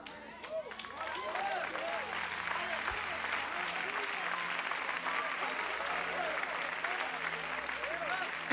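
A church congregation applauds together during a Portuguese-language worship service, a dense, steady wash of clapping that swells after the first second and holds at an even level, with a voice talking faintly underneath.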